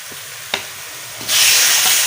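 Chopped onion hits hot ghee with a sudden loud sizzle that swells and holds steady, following a couple of soft stirring clinks over a quieter background hiss.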